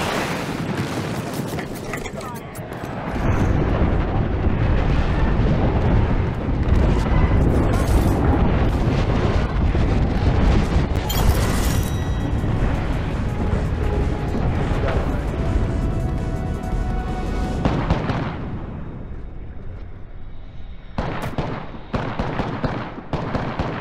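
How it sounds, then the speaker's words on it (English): Airstrike in a video game: a long, sustained roar of booming explosions and rumbling blasts, loud and dense for most of the stretch before thinning out near the end, with brief voice chatter mixed in. "Calling the airstrike."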